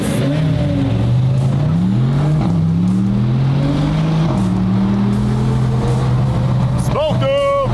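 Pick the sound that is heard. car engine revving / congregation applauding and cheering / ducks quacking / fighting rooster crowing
car engine revving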